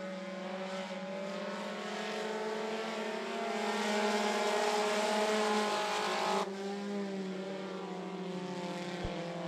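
Race cars at the I-75 Raceway oval roar past in a sustained, droning engine howl down the back straightaway, heard from a distance and steady at moderate level, with no talk.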